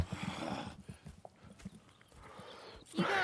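Horse hooves clip-clop at a steady walking pace in Red Dead Redemption 2, near and moderately loud, with a brief whinny-like sound and game ambience.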